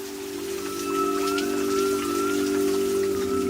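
Heavy rain pours at a flooded gem mine during the rainy season, a steady dense hiss with a constant mechanical hum beneath and a faint whistling tone, no voices.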